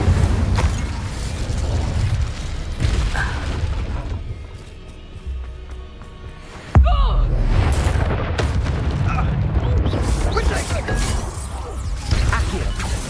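Spell-casting effects from the Hogwarts Legacy video game: dense bursts of magical booms, crashes and impacts over a busy combat soundscape, with a sudden loud hit midway and a brief quieter lull before it.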